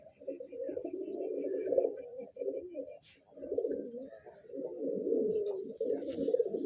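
Madrasi pigeons coo steadily in low, rolling phrases, close and continuous with brief pauses between bouts, with faint chirps in the background.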